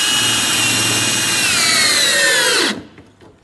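A power drill whines loudly as it drives a screw through a washer into a Danpal polycarbonate roof panel rib, its pitch dropping as the motor bogs down, then cutting off abruptly.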